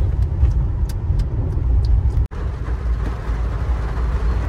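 Steady broadband wash of a car driving through heavy rain, a continuous close rumble of tyres and road spray with a brief dropout midway and no talk.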